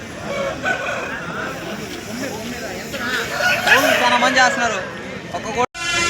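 At a Pileru hen market, a rooster crows in long, wavering calls among clucking fowl, near and fairly loud, while someone talks over the crowd noise.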